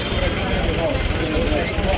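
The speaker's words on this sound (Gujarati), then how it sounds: "આ ટ્રેક્ટર ચડાવે ઢાળ" A tractor engine labours up a slope in a continuous, fairly loud drone with a throbbing low rumble, and indistinct voices mix in.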